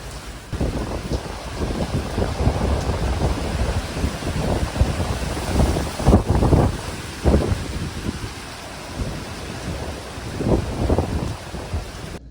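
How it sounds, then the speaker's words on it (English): Hurricane Milton's winds and heavy rain lash a Central Florida neighborhood at night, a steady roar of wind and rain that swells in loud gusts and continues throughout. "The winds are definitely picking up."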